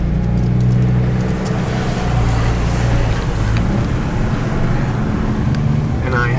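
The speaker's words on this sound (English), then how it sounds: "as she drives her lovely Ford Thunderbird off into the distance." Ford Thunderbird pulling away on a road in Gastonia, North Carolina, a loud, steady low engine drone with rushing noise that holds evenly across the stretch.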